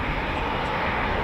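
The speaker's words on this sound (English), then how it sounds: "Typhoons using runway 25 with number 12 Squadron just awaiting clearance for departure." A Eurofighter Typhoon FGR4 jet at RAF Coningsby gives off a steady, loud, broad roar that runs unbroken through the whole short stretch.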